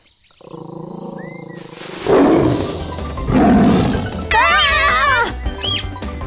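A cartoon tiger chasing a baby tapir in a children's animal show gives two loud, rumbling roars close up, followed by a wavering high-pitched squeal over steady background music.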